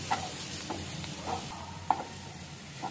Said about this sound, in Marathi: आणि याला एकदा फिरवून घेते, जेणेकरून कुठेतरी जर पावडर सुट्टी राहिली असेल ना तर ती छानशी मुरून जाईल